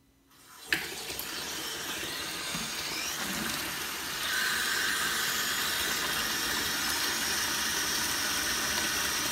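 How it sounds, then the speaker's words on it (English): Water gushing from the tap into a jetted bathtub, starting with a sudden onset after near silence and building to a louder, steady rushing fill that continues unbroken, with no talking. "let's go ahead and get the water turned on and see what she can do"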